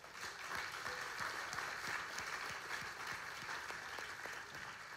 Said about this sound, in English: I think we should all give our first round of applause to our volunteers